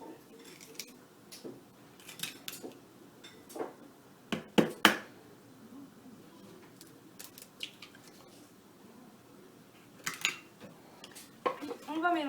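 Two eggs are cracked into a bowl of sugar, giving sharp knocks against the rim and light clinks of shell and bowl amid quiet kitchen handling noises.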